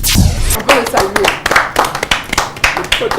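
Audience clapping during a French dinner-party show, with loud, uneven bursts of hand claps mixed with talking voices throughout.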